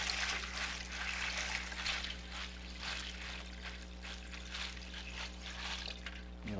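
Water pours and trickles into a bowl for pizza dough in a kitchen, a steady quiet splashing stream that lasts several seconds over a low steady hum, with no talking.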